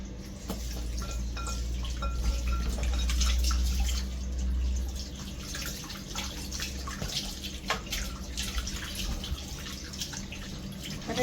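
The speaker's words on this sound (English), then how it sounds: "So we will begin by washing the beef." Tap water runs and splashes steadily while raw beef is washed in a kitchen, with a fairly loud continuous flow and scattered drips and clatters.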